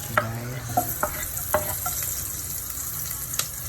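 Garlic browns in hot oil in a pan for ginisang monggo, with a steady sizzle broken by several sharp scrapes and clinks of a spoon stirring it.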